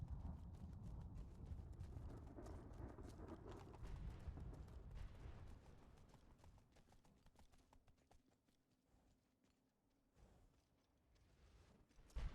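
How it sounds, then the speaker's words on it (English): Horse hooves clip-clop steadily on the ground in the Skyrim video game, a continuous close walking rhythm that fades somewhat toward the end. "look, there's a horse"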